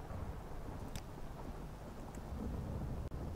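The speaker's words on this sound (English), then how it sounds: "Well, it's raining." Steady rain and rolling thunder in the Morrowind video game, a continuous wash of rainfall with a couple of brief thunder cracks and low rumble throughout, heard alone without voices.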